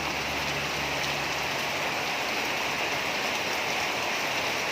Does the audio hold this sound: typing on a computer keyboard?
no